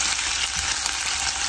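Chopped onion frying in oil at the start of a biryani, giving a steady, dense, close sizzle that holds evenly throughout without any talking.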